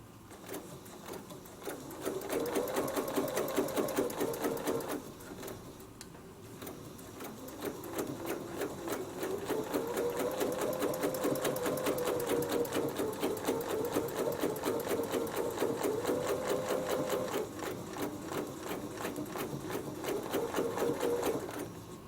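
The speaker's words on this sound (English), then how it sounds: "You notice when I move my hands, I stop stitching." Sewing machine stitching along a Westalee quilting template, a steady close mechanical whirr in long runs that pauses briefly around five seconds and again near seventeen seconds as the hands reposition.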